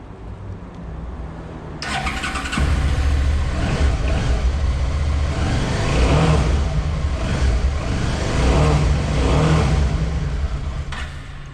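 A motorbike engine cranks and catches, then settles into a loud, steady running rumble with rising revs, close and alone without talk.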